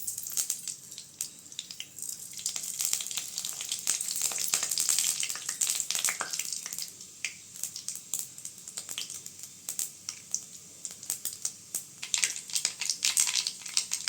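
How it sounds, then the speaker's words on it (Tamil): Mustard seeds frying in hot oil for a Tamil brinjal kara kuzhambu crackle and pop in dense, irregular bursts over a continuous bright sizzle, close and fairly loud, with no talking. "அடுத்து கடுகு சேர்த்துக்கலாம்."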